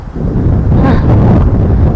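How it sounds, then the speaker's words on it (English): Loud, continuous wind buffeting the microphone, a deep rumbling roar with no pauses and no voices. "it's pretty windy now"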